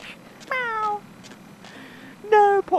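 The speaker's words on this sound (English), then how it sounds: "No, poor kitty, I saved you." Cat meowing in the video game Vampire the Masquerade: Bloodlines, two clear, close meows about two seconds apart over a low background hum.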